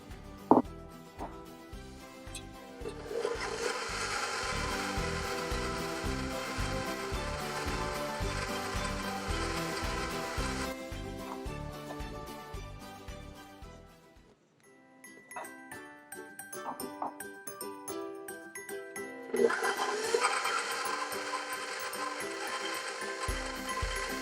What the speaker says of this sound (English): slowly add in the dry ingredients and mix them on low speed